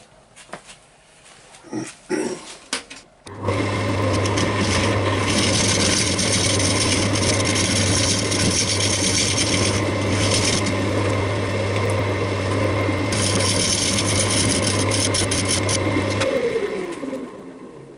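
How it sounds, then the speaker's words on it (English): A woodturning lathe hollowing out a large wooden bowl: after a few knocks, a loud continuous hum from the spinning lathe with a rough scraping tool cut over it, fading out near the end. "I'm going to start hollowing out"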